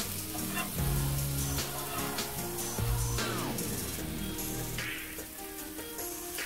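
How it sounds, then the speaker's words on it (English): Tomatoes, onions and jalapeno frying in a pan for an omelette, a steady close sizzle with crackles and occasional stirring, under light background music. "And now I'm gonna fry it."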